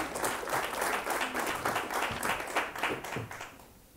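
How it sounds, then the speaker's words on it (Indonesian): Audience at a high school literary criticism competition final in Indonesia gives a round of applause, dense steady clapping that carries on throughout and thins slightly near the end. "Jadi kita kasih tepuk tangan dulu."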